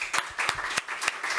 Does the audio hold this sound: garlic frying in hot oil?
no